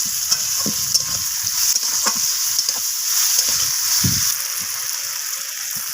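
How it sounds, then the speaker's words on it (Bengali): Onion, capsicum and tomatoes fry in a pan, sizzling steadily while a spatula stirs and scrapes in irregular clattering strokes, close and fairly loud, with no talking. "তো টমেটোগুলোকে আমি ভেজে নিচ্ছি সব কিছুর সাথে।"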